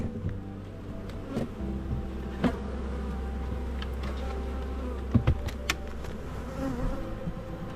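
Honey bees swarm around an open hive of two medium boxes during an April inspection. Their low, steady buzz is close and even, with a few brief knocks from the boxes and frames.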